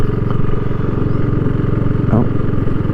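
A BSA Goldstar 650 motorcycle on a demo ride, green laning up a hill, its engine thumping loud and steady under the rider with a slight rise in revs near the end.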